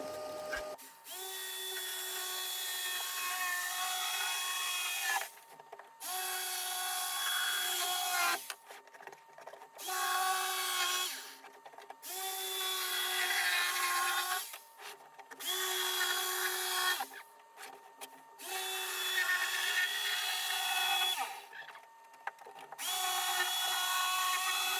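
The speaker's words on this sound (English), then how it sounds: "I'm going to come back and flush trim it with my Ryobi trim router" Ryobi trim router flush-trimming a 1/4-inch red oak backer, a loud high whine cutting in repeated bursts of a few seconds each, separated by brief pauses as the tool is lifted and moved along the edge.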